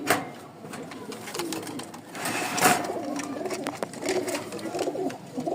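Rajshahi Giribaj pigeons coo softly and intermittently in a loft, close by, amid rustling and handling noises, with a low background of talk.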